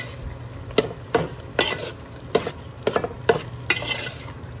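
Yellow cucumber (dosakaya) curry cooking in a pan, with a steady low sizzle and bubbling broken by several sharp scraping stirs and clinks of a spoon against the pan, close by.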